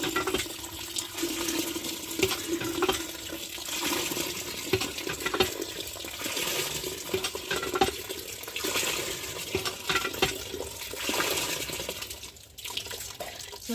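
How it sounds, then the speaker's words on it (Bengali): Jute leaves being washed in a bucket of water, with continuous splashing and running-water sounds, close and steady for the whole stretch, briefly quieter near the end. "একটু একটু একটু ধুতে হবে ভালো করে বেশি জল দিয়ে।"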